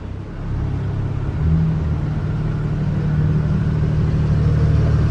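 Pagani Zonda F supercar engine idling and revving at a hypercar gathering outside a hotel, a steady low rumble that swells slightly after the first second and holds loud and close throughout.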